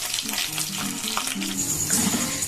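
Cumin seeds frying in hot oil for a pulao, a steady close sizzle with faint crackles and stirring throughout, no voices.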